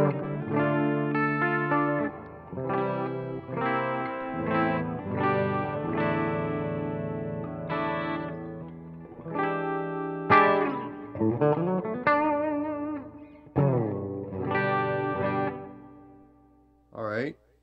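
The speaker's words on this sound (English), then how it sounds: "I'm going to put on some delay and chorus and some reverb" Clean electric guitar chords and single notes played through a Vox MV50 Clean amp with shimmering chorus, echoing delay and reverb, the repeats trailing off between phrases.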